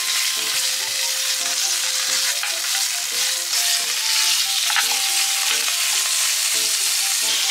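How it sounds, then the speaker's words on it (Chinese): Pork ribs stir-fry in a cast iron pot, giving a loud, continuous sizzle broken by rhythmic scraping and clanking of a utensil stirring against the iron throughout. "我们先炒香排骨"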